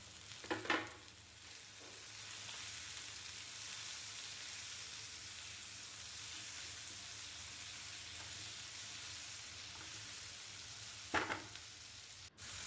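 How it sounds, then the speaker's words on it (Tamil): Tomatoes sautéing in a pan after the onions have softened, heard as a faint, even hiss of frying with a few brief scrapes of a spoon at the start and near the end. "தக்காளி சேர்த்து நல்லா வதக்கி விட்டுருங்க"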